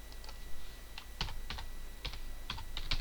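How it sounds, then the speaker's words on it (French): Search terms typed on a computer keyboard, with a handful of separate soft key clicks in an uneven rhythm, close and fairly quiet, with no talking. "Je tape ma recherche tout simplement"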